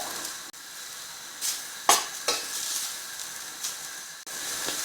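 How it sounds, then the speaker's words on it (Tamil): Grated coconut sautéing in ghee over medium heat, a steady soft sizzle with a few louder scraping stirs and bursts of hiss, no voices. "இந்த நெய்லேயே தேங்காய் துருவலை ஒரு நிமிஷம் மட்டும் நல்லா வதக்கிடலாம்"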